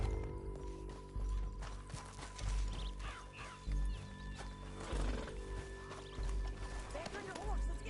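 Horse hooves galloping in Red Dead Redemption 2, with rhythmic clip-clop thuds and an occasional whinny heard over layered game music and ambient sound, moderately close and fairly soft.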